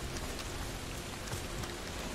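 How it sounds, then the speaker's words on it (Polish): Rain falls in the video game The Medium as a soft, steady hiss of drops, faint and even throughout with no voices. "No chyba pada deszcz, nie?"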